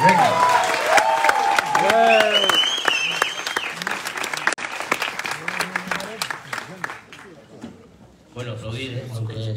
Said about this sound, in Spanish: Juanjo Navas, un aplauso para él, venga.